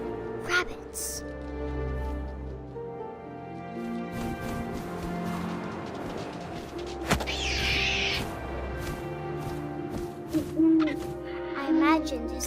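Owl hooting in the video game What Remains of Edith Finch, a few soft low hoots set within a tonal musical ambience, with a voice talking across the scene.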